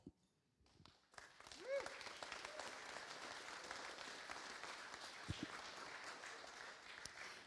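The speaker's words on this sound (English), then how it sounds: "they just deserve a huge round of applause" An audience at a charity boxing weigh-in applauds the fighters, rising after a brief quiet start into steady, fairly distant clapping with crowd noise and a voice mixed in.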